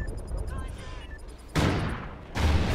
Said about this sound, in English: Oh, you heard my explosion go off right there?